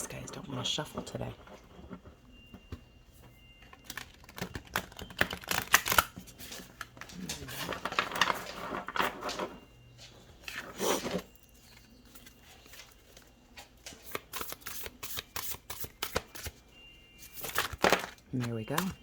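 Soft, irregular riffling and shuffling of cards in bursts, close by, with brief pauses between handfuls.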